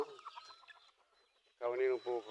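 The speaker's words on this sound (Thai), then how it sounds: "เดินมาดูไก่กินข้าวบ้าง" Chickens cluck nearby while feeding in the morning in Lampang, Thailand, with soft scattered sounds early on, then loud clucking bursts in the final second.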